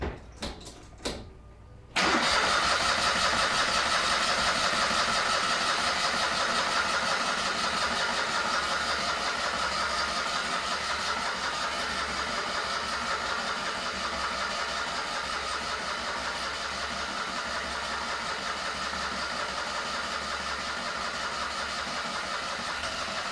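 A Citroën 2CV's small engine cranks briefly with a few sputtering bursts, then catches and settles into a steady, close idle that runs on for some twenty seconds.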